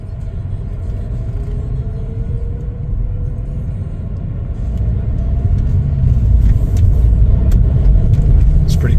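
A 2018 Mercedes-Benz CLA 250 on a test drive, its engine a steady low rumble from inside the cabin that swells and grows louder partway through as the car speeds up.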